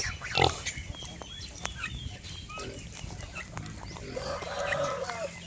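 A native pig eating while lying down, with soft chewing and rooting noises over a busy farmyard background where chickens cluck now and then and a louder animal call rises near the start.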